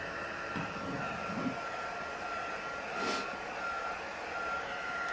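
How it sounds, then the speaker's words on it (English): A Recollections heat gun runs continuously while sealing a waterslide image, a steady, close blowing whir with a faint tonal whine and a couple of brief louder surges. "I hope y'all can hear me over the heat gun."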